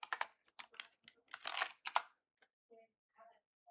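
Keys tapped on a computer keyboard while typing an answer into a Scratch quiz game, in short irregular bursts of clicks, close and clear, with brief pauses between them.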